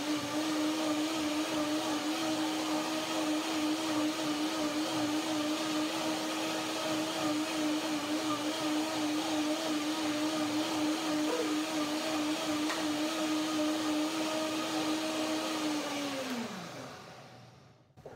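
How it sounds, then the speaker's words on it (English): A blender whirs steadily while it purees macadamia cream for a pear and grape salad, a loud, even motor hum with a sustained tone. It winds down and stops at the very end, with no talking. "Now, one more blender dance."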